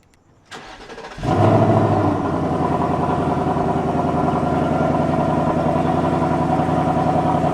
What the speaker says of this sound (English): 2024 Mustang GT stock exhaust.